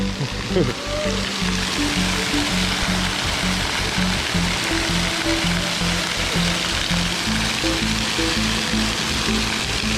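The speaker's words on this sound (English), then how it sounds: "for my first waterfall, impressive" A waterfall near Canggu, Bali, gives off a steady, loud, broadband rush of falling water that runs unbroken throughout, with faint voices partly buried beneath it.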